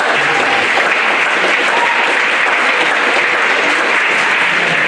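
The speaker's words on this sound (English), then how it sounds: "Let's give her a big round of applause." Sustained, loud applause from a town deliberative session audience fills the room steadily for several seconds, dense and even throughout with no talk over it.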